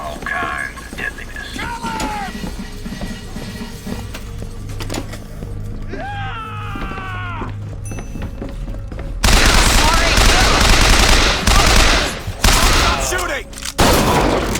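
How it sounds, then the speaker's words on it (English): Gunfire rings out in Bioshock Infinite. Scattered shots and whistling, sweeping effects come first, then dense, loud volleys of rapid fire and blasts. Voices are heard among the shots. "Shooting!"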